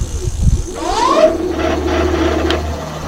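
The hub motor of an electric scooter, an Amyet G60 V-9, spins up on throttle after a short knock, rising in a whirring whine and then holding a steady hum under a low rumble for a few seconds, close and loud.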